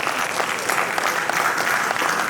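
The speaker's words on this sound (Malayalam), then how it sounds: "അപ്പൊ ഒന്ന് കൈയടിക്കാം." Loud, sustained applause from an audience at a film cast event on stage, a dense wash of clapping hands filling the room with no break.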